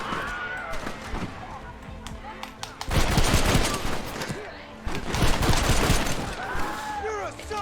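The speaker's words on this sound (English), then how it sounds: "I want to shoot that guy up there" Heavy gunfire in Red Dead Redemption comes in two sustained, dense volleys of overlapping shots that rise and fall, with a voice speaking over the shooting.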